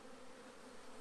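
Honeybees being moved into a long hive give off a steady, dense buzz that hums evenly throughout at a low, close level with no talking.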